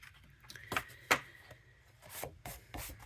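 Crafter's Companion gilding flakes being rubbed onto a craft project by hand, a few soft, close brushing and rubbing strokes with short scratchy bursts, quiet and alone without talk.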